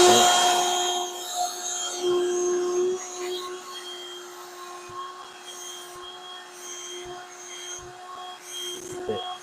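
Black & Decker Dustbuster Swivel handheld vacuum running close by, a steady high motor whine with a constant tone, small bumps and knocks as it is moved, fading somewhat over time.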